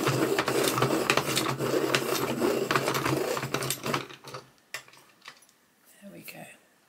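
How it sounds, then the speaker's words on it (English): A colouring pencil being sharpened, a close, steady rapid grinding whir that fades out after about four seconds, followed by a few light clicks and taps. "Again, I'm going to have to sharpen."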